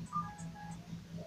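Short electronic dialing tones from an Android 4G LTE smartphone while a call is placed. Several brief steady beeps sound close and clear over a faint hum, with no one speaking.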